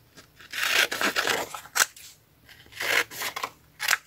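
Scissors cut out printed paper figures of Marilyn Monroe, Betty Boop and Princess Sarah, with repeated close crisp snips and rustling paper coming in short bursts separated by brief pauses.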